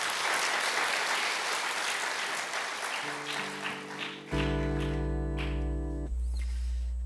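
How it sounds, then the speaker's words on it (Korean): A church congregation applauds during a Sunday afternoon service, a dense steady wash of clapping that fades as organ or keyboard chords rise and then swell loudly beneath it. "우리 박수 한번 칩시다"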